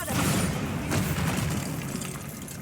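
Bombarda explosion spell cast in the Hogwarts Legacy video game, a heavy, rumbling boom that swells and rolls on for over two seconds, dense and loud with a second surge near the one-second mark.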